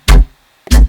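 Two short, loud, heavy bass hits run through diode distortion without a comb filter, grimy and punchy with a clear gap between them.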